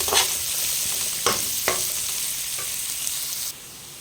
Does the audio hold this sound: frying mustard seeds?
yes